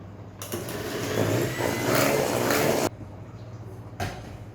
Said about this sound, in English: we're going to whisk it again with the electric beater